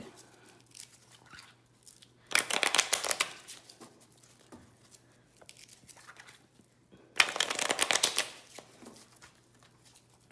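Two bursts of crisp card shuffling, each a rapid riffle of papery flicks lasting about two seconds, separated by a quiet stretch with faint rustling.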